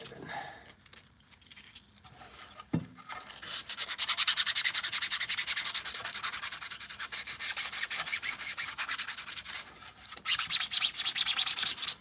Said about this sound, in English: so I'm just having to sand all this down